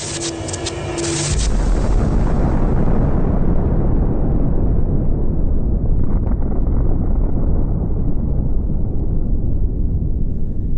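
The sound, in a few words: nuclear explosion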